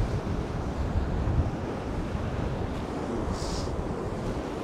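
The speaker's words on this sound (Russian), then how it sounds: "Смотрите, как красиво волны тут." Sea waves washing onto the shore at Vityazevo near Anapa, a steady broadband roar with wind buffeting the microphone, continuous and fairly close, no voices.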